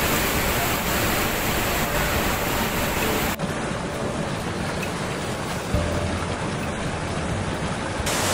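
Tsunami and storm waves crashing in rough open water, a dense, steady roar of churning surf and spray that stays loud throughout with no voices.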